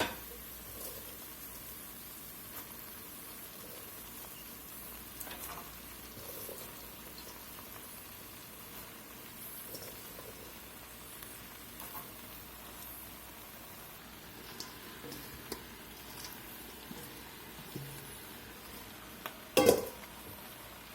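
Onions cooking over medium heat in a soup pot for French onion soup give a faint, steady low sizzle and bubbling, with a few soft clicks and a brief louder clatter near the end.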